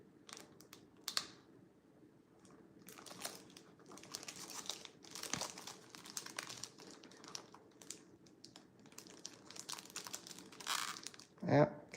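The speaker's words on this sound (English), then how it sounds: "We need to take off the sticker on this so we can see." A sticker being peeled off a game case, with soft intermittent crinkling and tearing scratches close by, fairly faint, and a short louder rip near the end.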